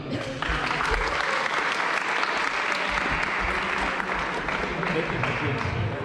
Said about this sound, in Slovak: takže veľký potlesk za vás všetkých